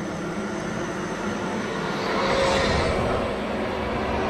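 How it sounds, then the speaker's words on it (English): A helicopter in the Alan Wake video game, a steady broadband engine roar that swells slightly midway, continuous and fairly loud with no speech. "Or maybe the helicopter gets taken over by the darkness now."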